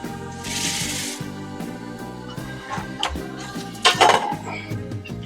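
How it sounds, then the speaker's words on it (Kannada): Sweet chutney being mixed into puffed rice for raw mango bhel, with a few bursts of spoon-on-bowl clinking and scraping heard close up beneath steady background music. "ಈಗ ಇದನ್ನ ಚೆನ್ನಾಗಿ ಮಿಕ್ಸ್ ಮಾಡೋಣ"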